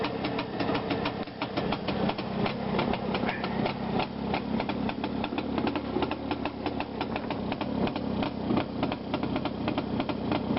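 A restored vintage Jawa motorcycle engine idles in a steady, rapid, even chugging beat that stays close and constant throughout, with no pauses.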